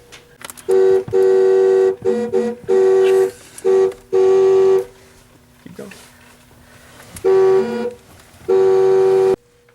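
A series of loud, blaring horn honks in short and longer bursts, some repeated quickly, with brief talking in between.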